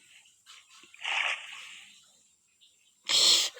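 Water splashing in Minecraft, soft sloshing game sounds followed by a short, sharp splash near the end, heard alone without talk.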